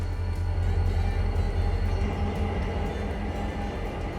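A long freight train with coal cars and a manifest consist, led by three GP38 locomotives in the game Railroader, rumbles steadily with a heavy low-end drone and faint rhythmic clatter, continuous and unbroken throughout.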